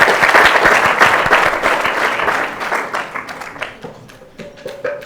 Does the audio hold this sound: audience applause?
yes